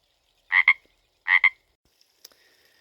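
A Pacific tree frog gives two short double-pulsed croaks about a second apart, close and clear against a quiet background, followed by faint small clicks.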